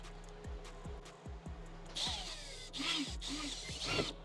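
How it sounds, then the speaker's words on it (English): A power drill with an 8mm bit whirs steadily with a few clicks and grinding bursts as the bit bites into material, close by. "Now I want to drill it with a 8mm drill bit."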